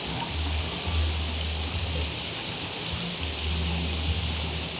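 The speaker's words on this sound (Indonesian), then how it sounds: "ini Sungai Batang Toru. Hingga hari ini masih deras juga." The Batang Toru river runs swift and high after a flood, giving a steady, loud rushing roar with no break, and a low machine hum comes and goes beneath it.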